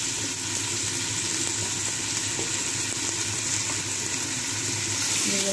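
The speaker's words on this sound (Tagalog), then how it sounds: "Sisimulan na natin lutuin ang ating chicken." Chicken hits hot oil in a home kitchen and sizzles continuously, a bright, steady frying hiss with faint stirring clicks, close and even in level.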